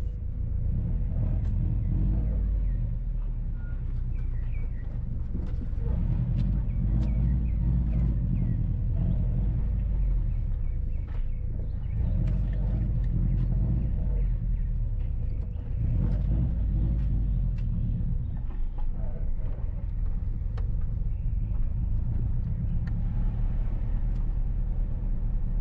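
A car rolls through residential streets in Portmore, Jamaica, with a low, steady engine rumble and tyre noise that swells and eases gently throughout.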